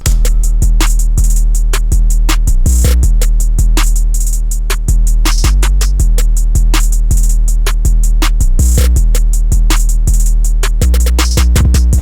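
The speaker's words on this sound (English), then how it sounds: "Then I added a second snare right here." Dark trap beat built in FL Studio loops with heavy 808 bass, skittering hi-hats and two layered snares, one added on top of the first, loud and steady throughout with no speech.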